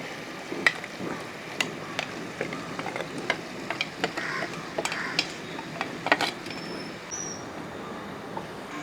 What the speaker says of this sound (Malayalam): ഇനി ഇതൊന്ന് ഇളക്കി കൊടുക്കുക.